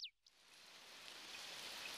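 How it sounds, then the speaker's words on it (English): Cartoon rain begins to fall, a soft hiss of raindrops that rises gradually from near silence after a brief high chirp at the start, staying faint and steady. "Looks like it's starting to rain."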